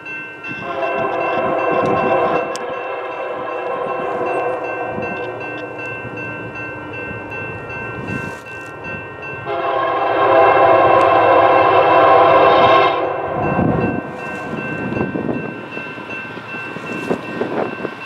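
Northbound Union Pacific freight train led by EMD locomotives on the Chester Subdivision in southern Illinois, loud and near, with rumbling engines and a long blaring multi-tone horn sounding repeatedly, strongest midway, with no talking.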